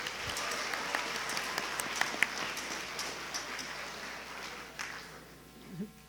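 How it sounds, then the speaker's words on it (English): Audience applause fills an awards ceremony for the 2017 North Carolina National History Day contest, a dense, steady wash of clapping that holds for several seconds and tapers slightly toward the end. "Give everybody a round of applause."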